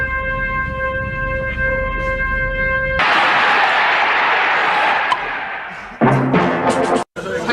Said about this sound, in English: If there's any more stock film of women applauding